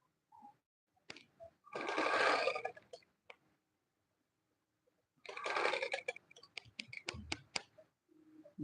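A domestic sewing machine stitches a dress in two close, loud bursts of steady whirring, each a second or so long, separated by quiet pauses and followed by a few light clicks and handling noises.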